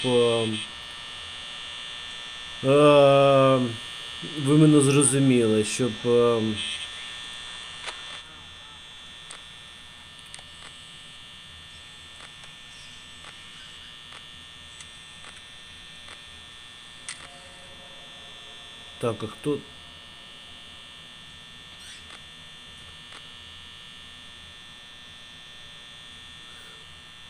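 Refrigerators running at maximum in the pizzeria of Five Nights at Freddy's give off a steady electrical hum and buzz for the whole stretch, while someone talks near the start and briefly again later.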